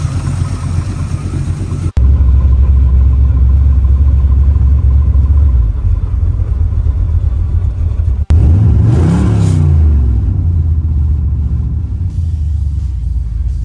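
A neglected Pontiac Trans Am engine, flooding after being started, rumbles loud and close. A brief cutoff is followed by a revving surge that rises and falls before settling back into a rough, heavy idle.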